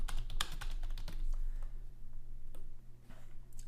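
Typing on a computer keyboard while writing code comments, a quick burst of close key clicks early on that thins to a few scattered taps over a low steady hum.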